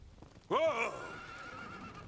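A horse whinnies once in Dragon Quest XI, a sharp rising-then-falling neigh that trails off, fairly close and clear over faint background game sound.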